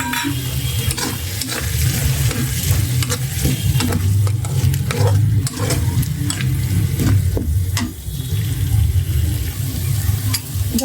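Fish frying in a pan, with a steady close sizzle and occasional stirring scrapes running throughout, no voices.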